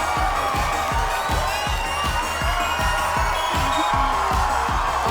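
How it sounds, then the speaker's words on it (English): Arena crowd at a live Minecraft Championship (MCC) esports event in Rotterdam roars and cheers continuously, loud and dense, with rhythmic thumping stomps or music beats pulsing steadily beneath the din. "You cannot hear yourself think in this arena."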